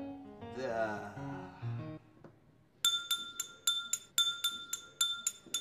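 Drinking glasses clink together in a rapid run of bright, ringing chinks, loud and close, after a stretch of low murmuring voices.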